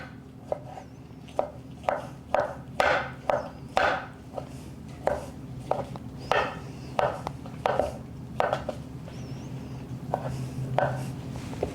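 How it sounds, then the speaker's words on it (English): A knife slicing through baked potato skin on a board, a steady series of crisp cutting strokes roughly every half second, close and clear over faint background hum. "I think I'm just gonna cut it."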